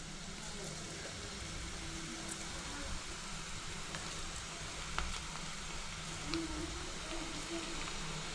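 Peanuts for masala peanuts dropped one by one into hot oil, fizzing in a steady low sizzle, with a few soft plops and clicks as pieces go in.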